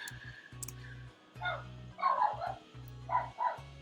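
A small dog barks and yips indoors in several quick bursts, moderately close, over a faint steady hum.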